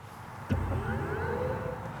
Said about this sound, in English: this car actually has a startup sound